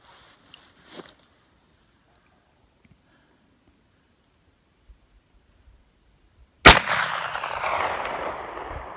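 A single sharp muzzleloader rifle shot fired at a mule deer during a Southern Utah hunt, loud and close, with a long rolling echo trailing off; quiet rustling and faint handling noises come before it.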